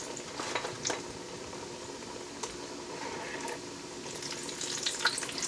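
Dough fries in hot grease in a pan, a soft steady bubbling sizzle with occasional small pops and clinks, fairly quiet and heard without talk.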